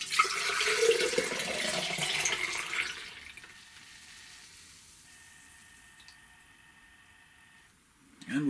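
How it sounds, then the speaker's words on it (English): Tap water runs loudly into a hydroponic planter pot for about three seconds, then stops, leaving a quiet room with a faint tone. "Fill that with water."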